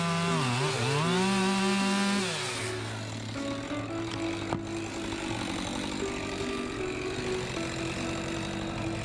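A chainsaw notching logs for an eight-sided log cabin: the engine revs up and down at first, then settles into a steady, loud cutting drone with a sharp knock partway through.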